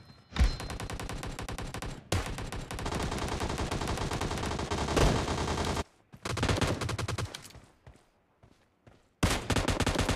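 Rapid gunfire in PUBG Mobile's Gun Game arena mode, dense automatic bursts running continuously with brief gaps, loud and close, with little else.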